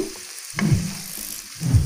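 Capsicum fries in a hot pan with a steady close sizzle, punctuated by a couple of soft stirring scrapes.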